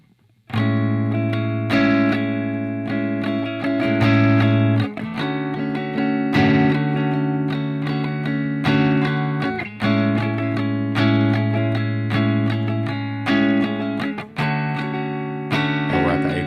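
Guitar chords for the verse of a song, strummed through effects with a distorted, chorused tone, each chord ringing for a few seconds in a slow repeating progression, with no talking.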